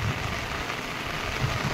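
Heavy village rain in Gujarat pours down in a dense, steady hiss of drops drumming on surfaces, loud and unbroken for the whole short stretch.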